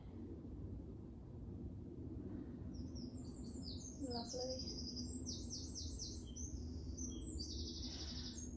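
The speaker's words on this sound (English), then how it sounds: "A little bit distracted by bird song then." Birds chirp and trill outdoors in a series of bright, repeated calls from about two seconds on, fairly clear above a steady low background rumble, with a brief spoken word.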